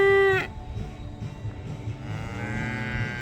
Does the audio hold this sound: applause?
no